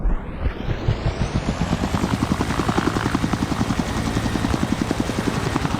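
A helicopter flies in the zombie mod of the GTA San Andreas video game, its rotor beating in a fast steady chop under a rising turbine whine, loud and close throughout.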